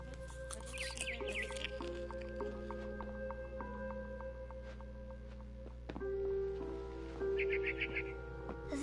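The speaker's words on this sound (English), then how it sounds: "Then I heard chirping outside my window. It was a barn swallow going back to her nest." A barn swallow chirping in the video game What Remains of Edith Finch, short bursts of quick twittering calls near the start and again later, over a steady low hum and a soft ambient tone, fairly quiet.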